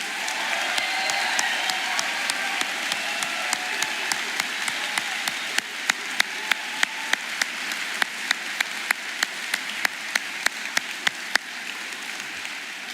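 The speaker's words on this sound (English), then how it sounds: "we applaud him for his unselfish and brave act" A graduation crowd at a 2023 commencement gives long, steady applause that stays dense and even. Sharper claps from nearby hands stand out now and then above the wash, with no talking.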